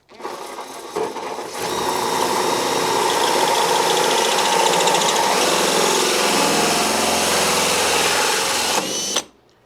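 A power cutter slices through a fiberglass kit car body panel, a loud, steady high-pitched whine and grinding rasp that holds for about seven seconds after a short start-up, then cuts off abruptly.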